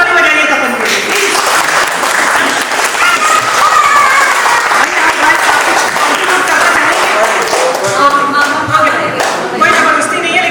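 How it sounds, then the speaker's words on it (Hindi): An audience at a mehendi celebration claps loudly and continuously, a dense wash of hand claps filling the whole stretch, with voices and cheers mixed in among the crowd. "एक बार सब लोग प्लीज जोर से ताली बजाइए तपन के लिए, प्लीज।"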